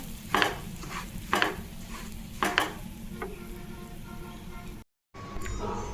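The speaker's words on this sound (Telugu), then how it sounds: "దోరగా వేయించుకోవాలండి సిమ్లో పెట్టేసుకొని" Bombay rava semolina is dry-roasted in a pan over a low flame, with a spoon scraping and stirring in several distinct strokes over a faint background sizzle, close and fairly quiet.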